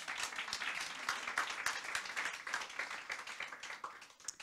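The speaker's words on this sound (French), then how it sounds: "Déjà pour ça, on peut t'applaudir" Applause at an advertising awards evening, a lighter, uneven patter of clapping from a smaller group, rising and falling in bursts with a few sharper individual claps standing out.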